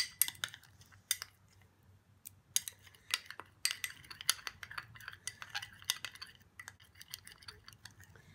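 Metal spoon clinking and scraping in a bowl while aloe vera gel and other face pack ingredients are stirred together, giving irregular close taps and scrapes over a quiet background.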